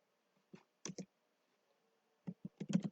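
A pen or stylus writing on a board or tablet, heard as faint, sparse clicks and taps in two short bursts against an otherwise quiet room.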